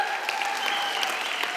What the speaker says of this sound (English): Can you give them one more hand clap?